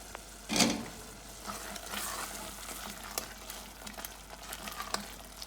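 Sofrito sauce sizzles quietly in a pan with a steady, faint crackle and a brief louder hiss near the start.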